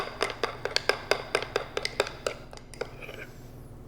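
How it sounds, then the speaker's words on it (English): Honey being stirred into a bowl for a chocolate almond microwave cake, heard as a rapid series of sharp clinks and taps from a utensil against the bowl, close and fairly quiet, slowing toward the end. "And just going to stir this nicely."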